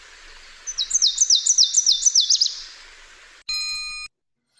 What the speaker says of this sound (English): So that sounds like some other warblers that we'll be listening to in a minute